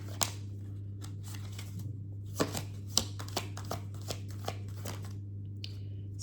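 A tarot card deck being shuffled nearby, light riffling flicks and soft taps scattered over a steady low hum, fairly quiet.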